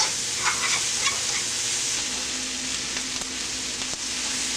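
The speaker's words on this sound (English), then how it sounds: "And this has been sauteing now or frying for about 4 minutes." Onions frying in vegetable oil for tomato beef chow mein, a continuous close sizzling hiss with faint crackles and a few light utensil taps.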